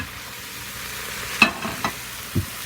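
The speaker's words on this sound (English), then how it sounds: "We're going to mix that up and stir that up." Seasonings get stirred into a pot of crockpot chili. A steady low background hum carries a few distinct scraping knocks of the spoon, close and moderately loud, with no voices.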